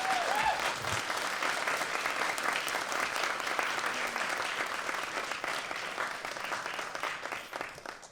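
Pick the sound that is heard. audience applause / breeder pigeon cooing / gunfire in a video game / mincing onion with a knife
audience applause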